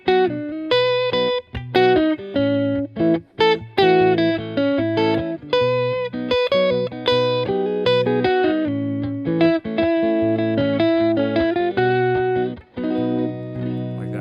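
A guitar solo built on chord tones, played on electric guitar with effects: quick runs of distinct plucked notes and ringing double-stops, loud and close, with no talking.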